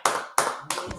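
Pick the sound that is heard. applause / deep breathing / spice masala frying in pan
applause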